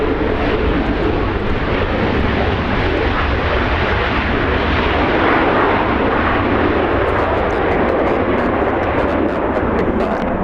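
Airplane of non-revenue flight 6013 at Los Angeles International Airport, a loud continuous jet engine roar that stays heavy and close throughout.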